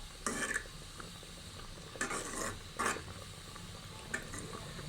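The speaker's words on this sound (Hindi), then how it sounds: "हमने इसमें चम्मच चलाना शुरू कर देना है ताकि इसमें जो है वो गठलियाँ सी ना बन जाएं" A spoon stirs sweet vermicelli with custard and milk in a pot, giving a few distinct scraping bursts against the metal between softer, steady stirring.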